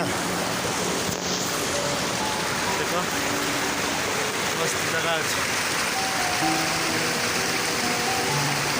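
Kujachu waterfall, with water rushing and flowing in a steady loud broadband roar throughout, while people talk over it.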